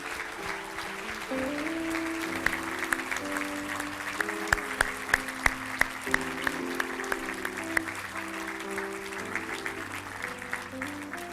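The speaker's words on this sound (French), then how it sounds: "Est-ce qu'on peut les applaudir, s'il vous plaît?" A church congregation applauds the fathers steadily for about eleven seconds, the clapping dense and sustained under a backdrop of organ or keyboard chords.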